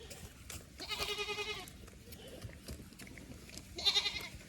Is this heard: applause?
no